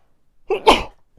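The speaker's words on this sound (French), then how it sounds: "Je vais faire atchoum." A single close, loud sneeze bursts out, a short intake followed by the sharp explosive release, with near silence before and after.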